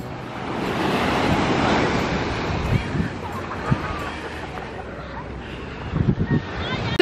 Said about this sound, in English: We're on a beach.